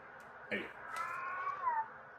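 A studio cat gives a single faint, drawn-out meow that rises and then trails off, heard alone in a quiet room.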